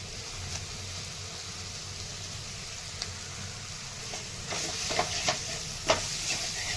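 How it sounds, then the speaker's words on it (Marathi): Spices, including mutton masala, red chilli powder and goda masala, are sautéed in oil for a farsan bhaji, giving a soft steady sizzle with a few stirring scrapes that grow louder toward the end. "मसाले छान परतून घ्यायचे आहेत"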